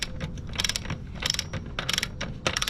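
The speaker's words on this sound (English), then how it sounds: "So I've put the torque wrench on 113 Newton meters." A torque wrench ratchets in repeated clicking bursts while tightening the rear wheel of a 2025 Honda CBR600RR PC69 motorcycle, set to 113 Newton meters; close, crisp mechanical clicks with steady background noise.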